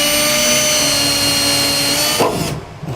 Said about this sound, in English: I'm going to drill a pilot hole in the center of my 4 holes on the ends of my rails.